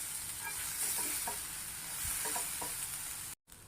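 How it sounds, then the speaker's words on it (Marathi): Grated fresh coconut roasting with browned onion in a pan, quietly sizzling while a spoon stirs and scrapes in short repeated strokes, with no voices. "कांदा चांगला भाजला की खोलीला ओला नारळ ह्यात भाजून घ्यायचा"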